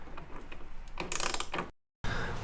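Bolts on a Rhino Rack Backbone bracket being tightened on a Jeep Gladiator, a close ratchet clicking in quick bursts, then a brief pause before the metallic clicking resumes.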